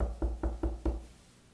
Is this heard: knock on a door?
yes